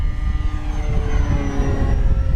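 An FMS Ranger 1800mm RC float plane flies past with a loud, steady electric motor and propeller whine, rising harmonics gradually shifting in pitch as it passes, over a rumble of wind and no speech.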